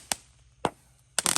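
Roman candle firework shots during a Ramadan night session, three sharp loud bangs spaced about half a second apart, the last one bursting into a crackling, fizzing shower.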